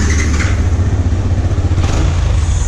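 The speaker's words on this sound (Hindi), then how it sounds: "उससे पहले इसका स्टॉक एग्जॉस्ट सुन लेते हैं कैसा है" A motorcycle on its stock exhaust, idling in neutral, gives a loud, steady low rumble close by with slight rises in pitch. No one speaks over it.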